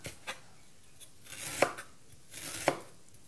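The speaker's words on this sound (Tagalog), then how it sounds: "ganito rin lang guys ang paghiwa ng ginger. Slice siya." Ginger is sliced with a knife on a cutting board, a few crisp separate chops spaced about a second apart, close and fairly quiet.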